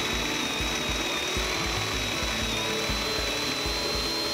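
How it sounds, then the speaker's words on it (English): Pipe tapping machine with its cutter being fed into a pipe through a saddle, grinding with a steady pulsing rhythm of regular thumps under a thin constant whine, loud and close, with no talk. "introduce the cutter into the pipe by continuing to turn the cylinder clockwise"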